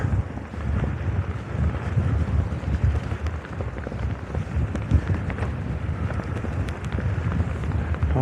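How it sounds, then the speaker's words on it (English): Steady, loud wind roars across the microphone during a seaside ride on a GreenSpeed GT1 recumbent trike at Redcliffe, a broadband rush with gusty swells and no talk. "I'll have the wind behind me going back."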